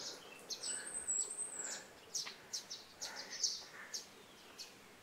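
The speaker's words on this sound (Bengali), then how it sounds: "আর পাখির আওয়াজ শোনা যাচ্ছে খুব" Small birds chirp and tweet in short, scattered calls along a quiet road through forest, faint and somewhat distant over a soft background hiss.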